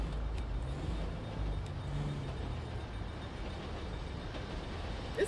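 A train rolls past in the GTA 5 Online video game, a steady low rumble of engine and wheels holding at moderate loudness throughout with no talk over it.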